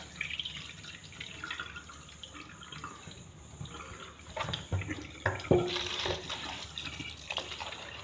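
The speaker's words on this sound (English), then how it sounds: "So I'm going to pour out the hot water." Hot water poured off partly cooked rice in a pot beside a gas cooker, heard as faint trickling, splashing and scattered drips that grow a little busier midway, with no talking.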